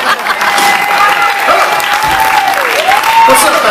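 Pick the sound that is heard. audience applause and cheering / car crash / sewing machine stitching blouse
audience applause and cheering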